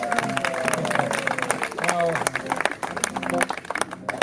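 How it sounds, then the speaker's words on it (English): Scattered clapping from an audience at a Jamaican High Commission music and literary event greets actor Colin Salmon, heard close and broken up under a man's loud, continuous speaking. "I give a round of applause for Colin one time"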